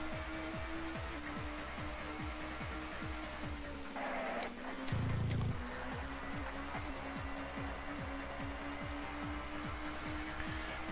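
Race car engine in a PS1 racing game, either TOCA or Colin McRae, droning steadily at high revs with a regular ticking pulse, briefly dipping and surging mid-lap, continuous throughout.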